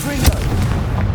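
A Confringo blasting spell goes off in Hogwarts Legacy, giving a single loud, booming explosion that rumbles and fills the moment.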